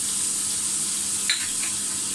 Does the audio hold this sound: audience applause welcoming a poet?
no